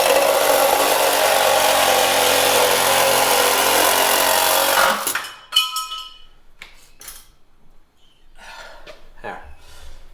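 Power saw cutting trim for a custom car engine mock-up, loud and continuous for about five seconds, then it stops and is followed by lighter clinks and rubbing handling sounds.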